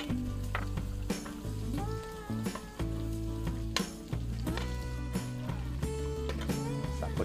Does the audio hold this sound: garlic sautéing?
yes